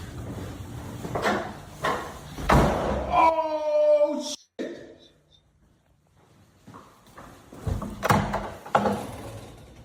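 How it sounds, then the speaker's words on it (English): A door slams shut with one sharp, heavy bang right after a creaking, ringing tone that slides downward. Quiet follows, and people talk before and after. "the door slams shut right behind him"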